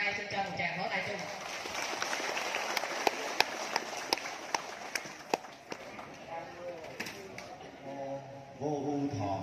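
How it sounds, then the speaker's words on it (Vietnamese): Faint, diffuse applause from the crowd at a Buddha's Birthday ceremony at a Vietnamese temple, mixed with scattered sharp taps and distant chatter, with a voice rising near the end. "xin cho một tràng pháo tay chung"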